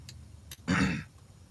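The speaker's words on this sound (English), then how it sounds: "y'all got to excuse all this coughing" A person clears their throat once, a short, rough, close burst after a couple of faint ticks, then quiet.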